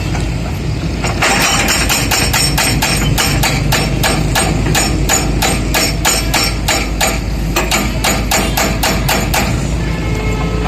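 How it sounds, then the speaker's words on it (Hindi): A jackhammer pounds the ground at a BRT bus line road construction site in Karachi, a rapid, steady hammering lasting several seconds over a low, constant engine drone, loud and close. "इस वक्त यहाँ जैकबर मशीन काम कर रही है"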